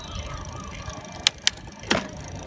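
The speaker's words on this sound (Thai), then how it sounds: "เปลี่ยนเกียร์เป็นเกียร์2 สปีดก็จะได้เพิ่มมานะครับ" An electric mountain bike with a KP 750W mid-drive motor shifts gears, giving three sharp, separate mechanical clicks over a low steady hum, with the last click slightly longer.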